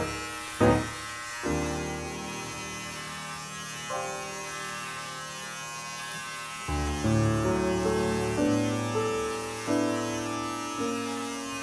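Electric hair clippers being eased in at the nape of the neck during a barber's fade cut, a steady close buzz that shifts pitch in segments as the blade meets hair, with brief knocks between passes.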